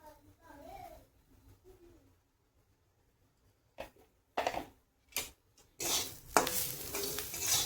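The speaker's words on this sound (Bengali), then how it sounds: "তো এইভাবে আমি একটু নাড়িয়ে চাড়িয়ে নেব।" A voice speaks briefly, then after a quiet pause bitter gourd with salt and turmeric is stirred in a pan: scraping, clattering bursts of utensil on metal, close and fairly loud, becoming steadier toward the end.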